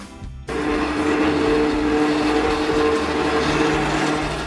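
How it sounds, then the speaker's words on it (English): A funicular cable railway car climbing a steep incline runs with a steady rolling rumble and faint metallic squeal, starting abruptly after a brief silence and continuing evenly. "Funicular, a cable railway system on a steep incline, where two cars are counterbalanced and connected by a cable."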